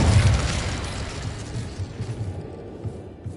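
A Bombarda spell blast in a Harry Potter-style video game, a short low boom and rumble that decays over a few seconds, fairly loud and without talk.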